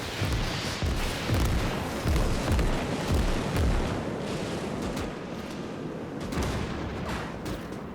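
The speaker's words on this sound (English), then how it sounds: "Oh, rocket artillery!" Rocket artillery in the Winds of Iron mod set in a 1920s war game, with dense overlapping booms and blasts that rumble without a break, loud and continuous like a barrage pounding a field.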